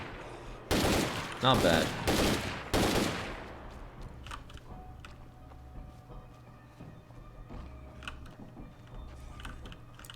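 Gunfire aimed at zombies in State of Decay 2 sounds as several loud, close bursts of rapid shots in the first few seconds, then fades into quiet ambience with faint clicks, and a voice speaks briefly.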